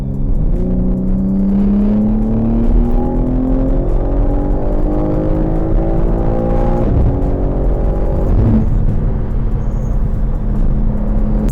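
A 740 PS BMW M3 Touring engine revs loudly and close by, its pitch climbing in long sweeps before dropping back toward a rumbling idle.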